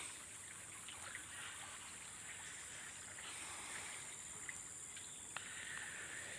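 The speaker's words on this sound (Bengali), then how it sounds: "এই দেখেন পানির স্রোত" Faint, steady wash of a stream of water flowing nearby, with a couple of soft clicks and no voices.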